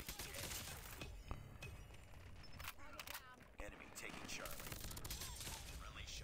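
Quiet, rapid gunshots from an OTs-9 in a video game crackle in bursts over steady background noise, with a voice speaking now and then.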